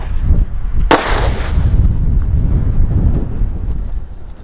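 One loud bang from a bird scarer's blank cartridge cracks out and echoes away, while strong wind buffets the microphone throughout.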